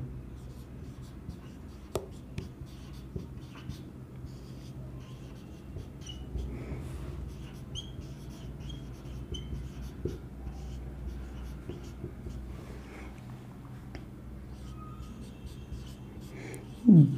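Notes are handwritten during a lesson on communication, giving soft continuous pen-on-paper scratching with small taps. A quiet muffled voice and a brief louder knock come at the end.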